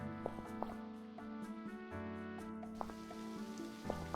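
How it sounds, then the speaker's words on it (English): Rain falling in the video game To Pixelia, a soft steady patter with occasional distinct drops, faint beneath a layer of game music. "Oh, it's raining again."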